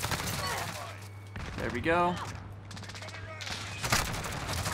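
Gold dismemberment-pack Grau assault rifle fires in a Call of Duty match, rapid bursts of gunfire running underneath most of the clip, broken by a brief gap, while someone talks over the shooting.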